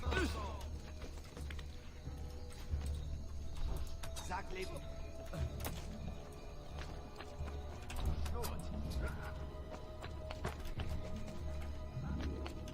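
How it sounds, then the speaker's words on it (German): Horse hooves galloping in Assassin's Creed 2, a steady clip-clop running through the whole stretch alongside game mechanism clatter, with someone speaking German over it. "Das Pferd."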